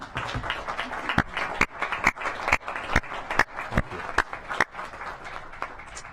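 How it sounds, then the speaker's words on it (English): A small group in a city council chamber claps, a sparse, uneven round of applause with distinct individual hand claps standing out sharply, close and moderately loud. "Can everyone give them a round of applause?"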